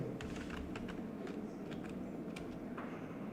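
Numbers are typed on a computer keyboard, a quick series of light clicking keystrokes close by over a steady background hum.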